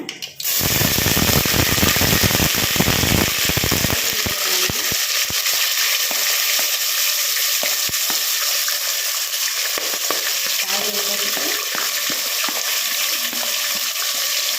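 Ginger and garlic crackle and sizzle in hot oil with popped mustard seeds, a loud, dense, continuous frying hiss close up, with occasional stirring clicks and no talk.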